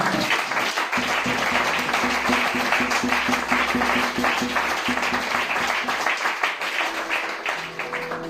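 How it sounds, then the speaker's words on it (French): Church congregation applauding and acclaiming during a Christian service, a steady dense wash of clapping lasting throughout, with a rhythmic tapping pulse and a few voices mixed in toward the end. "Acclamons d'abord le Seigneur pour nos parents qui sont là."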